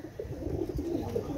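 Pakistani Motiwala Teddy pigeons coo in a loft, giving several low, throaty coos in a close, continuous murmur with no talking.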